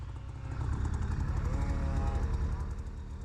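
A small Arctic Cat Blast M snowmobile engine running steadily up close, with a buzzy, rapid putter and a slight rise in pitch partway through.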